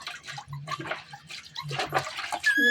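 Water splashing and pouring in bursts during a cold outdoor bath, with uneven scoops and splashes close by and a faint voice in the background.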